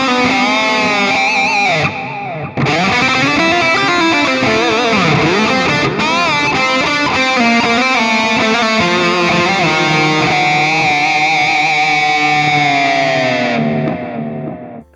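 A Mooer GTRS electric guitar through its built-in mod reverb rings out loud and sustained, with chords and notes swelling under a shimmering wash before fading away at the end.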